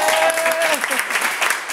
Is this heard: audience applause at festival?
yes